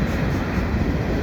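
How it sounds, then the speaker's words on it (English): An EXO commuter train rushes past close by in Dorval, producing a loud, continuous rumble and roar that holds steady through the whole moment. "EXO train just went by."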